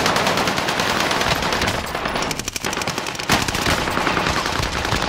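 Video game gunfire sounds as loud, rapid automatic bursts with a brief gap near the middle, then resumes close and dense with no talking.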